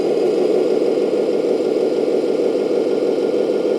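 An RC 8x8 hydraulic roll-on roll-off dumper truck with gearbox and hub reduction crawls at low speed, its electric drive giving a steady, loud mid-pitched whir and hum with no talk.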